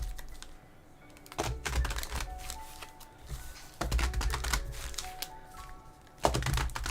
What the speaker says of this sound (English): Get my little shuffle going on here